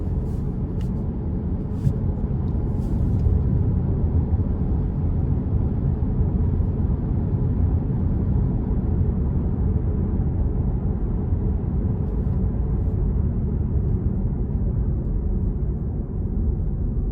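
Steady, dense low rumble from a 2021 Ford Mustang EcoBoost Premium's turbocharged engine accelerating, heard from inside the cabin, continuous and fairly loud with a few faint clicks near the start.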